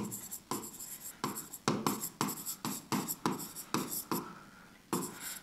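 A pen scratches out a diagram on paper in short, steady strokes with brief pauses between them, close and fairly quiet, with no voices.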